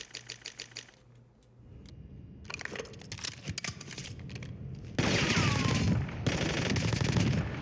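Rapid automatic gunfire from shooting-range practice in the Warzone video game, set in Verdansk, fired in dense, loud bursts and sustained strings of shots with a sharp percussive crackle, no talking.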